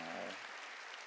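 A church congregation claps together during a New Year's Eve service, a broad wash of applause that starts full and then thins out over about a second.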